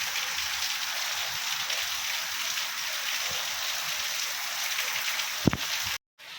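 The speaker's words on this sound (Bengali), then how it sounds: "দেখেন কি পরিমাণ বৃষ্টি হইতেছে" Heavy rain pouring down in a dense, steady roar of close hiss, unbroken for several seconds before a sudden cut to near silence at the end.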